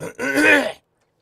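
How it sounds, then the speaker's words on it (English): Single short, gravelly throat clearing close to the mic, a rough voiced rasp under a second, followed by silence. "Let me clear my throat."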